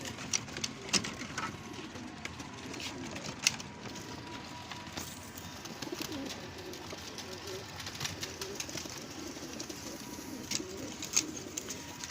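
Pigeons recently let out of a cage coo softly in a continuous low murmur, with occasional sharper clicks and rustles over a steady ambient hiss.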